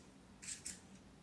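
An eyeliner pencil being sharpened, giving two short, faint scraping twists close by in a quiet room, the first longer, the second brief.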